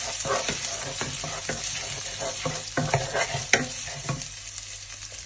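Chopped ginger and garlic sizzle in hot oil for a spicy pork curry while a spoon stirs and scrapes the pan in irregular clicks and knocks, close by, with no talking.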